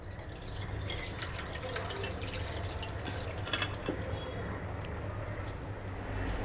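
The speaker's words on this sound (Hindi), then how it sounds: "पनीर के ऊपर से सादा पानी डालेंगे ताकि नींबू की खटास निकल जाए।" Plain water is poured over freshly strained paneer sitting in muslin cloth over a sieve, making a steady, continuous splashing and trickling rush of liquid with no talking.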